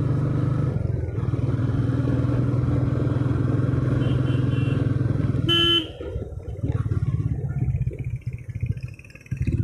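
A Meteor motorcycle drones steadily while climbing a hill road in Kolli Hills. A short horn toot sounds midway, followed by a rougher, fluctuating engine noise.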